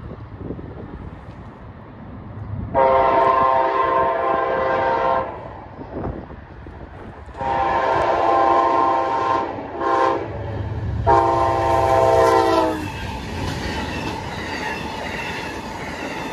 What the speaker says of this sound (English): All right, we got an Amtrak train down the line.